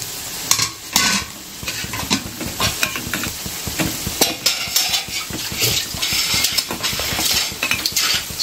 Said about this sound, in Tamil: அப்படியே லைட்டாக கிளறி கொடுத்துட வேண்டியது தான்